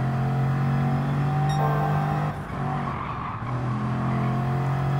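Race car in Gran Turismo 7 braking hard with a loud tire skid and squeal over a steady engine drone, the engine note dipping briefly as it slows.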